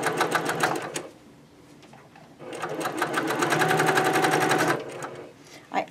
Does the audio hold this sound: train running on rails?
no